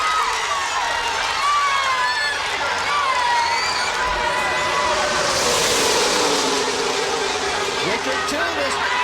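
A huge crowd of about 170,000 roars at Talladega during a NASCAR Winston Cup race, a loud, sustained wash of cheering mixed with engine noise, while a commentator talks over it.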